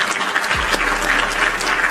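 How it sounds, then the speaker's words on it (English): A small group of people claps together in a steady, brisk patter, fairly close and clear, with no talk over it. "Everybody clap it up for butter."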